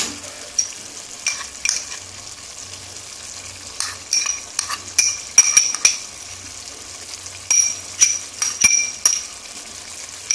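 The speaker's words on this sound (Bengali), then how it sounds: "পোস্তটা আমার মেশানো হয়ে গেছে" Stirring poppy seed paste into boiled potatoes in a pan, with repeated scraping and clinking strokes of a utensil against the metal in an irregular rhythm, fairly close and without talk.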